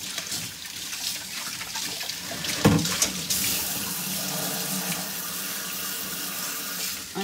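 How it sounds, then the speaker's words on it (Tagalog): Kitchen tap running steadily into a sink while produce is rinsed under it, a close, moderately quiet hiss of flowing water with a brief splash and clatter partway through. "So kailangan din nating hugasan ng mabuti."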